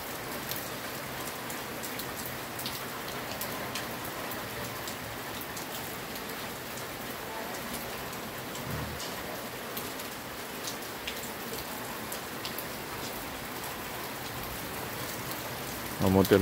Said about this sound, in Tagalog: malakas na po ang hangin at ang pag-ulan bunsod ng bagyong si Ramil